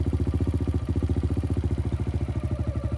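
A Kawasaki KLX 110 pit bike idles with a steady, rapid single-cylinder putter, close and loud, as the clutch is slowly let out without throttle and the bike begins to creep forward.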